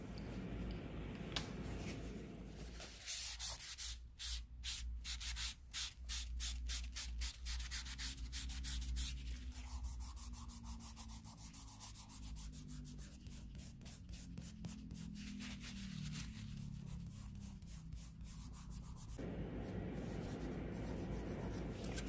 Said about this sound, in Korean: 거즈로 문질러 주세요.